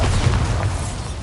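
A Bombarda spell explosion in a video game set in a goblin mine, heard as a deep rumbling boom that stays heavy and sustained through the clip with no talk.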